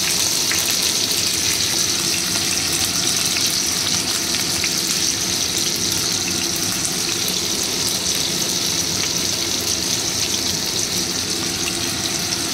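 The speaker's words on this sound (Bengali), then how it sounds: "পেঁয়াজ আর কাঁচা লঙ্কা, কুচি পেঁয়াজটা আর কাঁচা লঙ্কাটা ছেড়ে দিলাম।" Chopped onion and green chili fry in a hot pan, giving a loud, dense, unbroken sizzle close up with faint stirring underneath and no talking.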